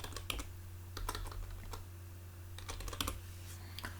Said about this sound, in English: I'll type the session name as tutorial session.